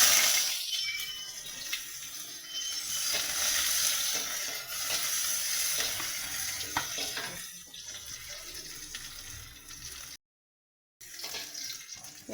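Onion hitting hot oil tempered with nigella seeds and dried chilli, a loud bright hiss and crackle that gradually eases to a softer sizzle, with a brief break near the end.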